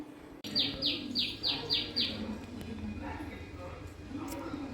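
A bird chirps in a quick run of about six bright, evenly spaced calls, loud and close, over steady kitchen background noise, then falls quiet.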